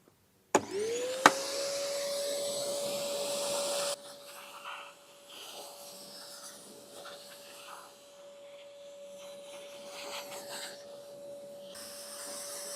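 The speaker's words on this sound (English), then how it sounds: "make sure that you don't vacuum with the cleaner pushed against the top" A vacuum cleaner drones steadily with a constant whine while sweeping dust off a convertible's fabric soft top, a sharp click at the start, then the pitch holds as the nozzle passes lightly over the cloth.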